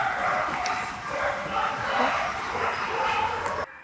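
A rescued dog barks and yips in a fast, close run of bow-wows that continues for several seconds, with steady background noise underneath before it cuts off abruptly.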